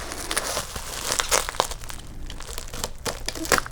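Packaging and tape crinkle and crackle close up as they are unwrapped, a dense run of rustling and sharp tearing sounds with no pauses.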